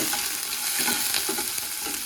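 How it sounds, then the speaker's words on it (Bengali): Fish fries in a pan, a continuous close sizzle with soft stirring noises running underneath and no voices. "এদিকে মাছ ভাজা হচ্ছে"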